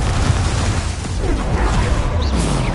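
A Confringo blast spell in the game Hogwarts Legacy, loud dense booming burst with crackling debris and rumbling low end filling the whole moment, close and intense.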